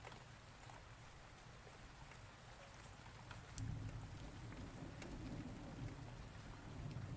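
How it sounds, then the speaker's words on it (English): Steady rain in the game Rainswept pours continuously with a soft hiss, swelling slightly louder partway through, with a low rumble beneath. "I can hear the rain."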